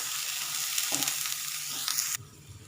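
Masala paste for mutton sizzles and fries in a pan over a lowered flame, a bright continuous hiss with stirring scrapes, which drops off abruptly near the end.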